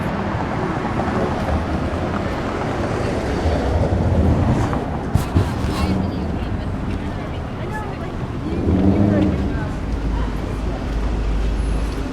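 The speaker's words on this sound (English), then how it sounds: "there's a westbound streetcar" A westbound streetcar passes along a downtown Toronto street, a low rolling rumble swelling near the end amid wind buffeting the microphone and general street noise, with people talking over it.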